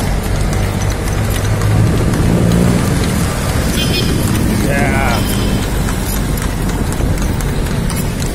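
Horse hooves of a kalesa carriage clip-clopping on pavement at Rizal Park, mixed into busy traffic and street noise, with people talking over the ride.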